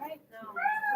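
A voice imitates a cat's meow, a short rising and falling mew delivered once in a classroom setting.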